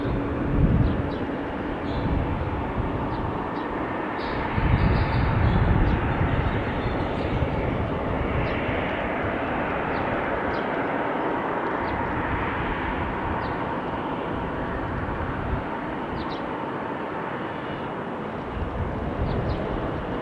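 An Airbus A321neo airliner arrives on runway 17 at Salt Lake City International, its steady jet roar filling the whole stretch. The rumble swells slightly and then holds at a broad, continuous level.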